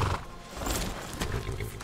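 A horse in the video game Skyrim neighs and stamps, a close, rough whinny mixed with hoof clatter that fills the short moment.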